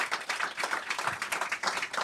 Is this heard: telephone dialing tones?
no